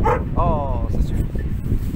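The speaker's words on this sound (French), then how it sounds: "Chien qui aboie là." A Belgian Malinois gives a sharp yip and then a drawn-out whining, wavering bark, close and loud, followed by lower rumbling noise.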